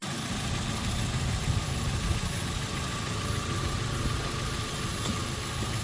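Ford Ranger engine with a mild turbo build idling steadily with its MAF sensor unplugged, a continuous close low rumble with no voices.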